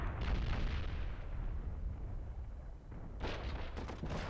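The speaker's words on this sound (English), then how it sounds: "Can bombard the Italians." Artillery bombardment in the World War I strategy game Commander: The Great War, heard as a steady rumbling barrage of booms and blasts with a fresh burst of impacts near the end, no talking.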